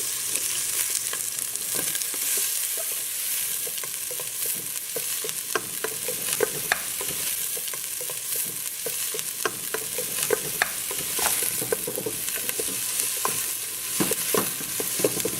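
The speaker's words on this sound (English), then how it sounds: "now I'm going to cook my onion first" Chopped onion frying in about two tablespoons of hot oil for a lasagna sauce, a steady dense sizzle with frequent small pops and crackles, close and continuous with no talking.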